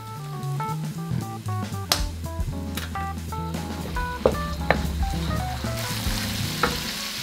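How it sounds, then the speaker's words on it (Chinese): Red chili oil and dark soy sauce sizzle in a hot wok while Sichuan mapo tofu is being made. A steady, close frying hiss runs under prominent background music. "先加1大匙红油进锅，然后加入1大匙的老抽调味，"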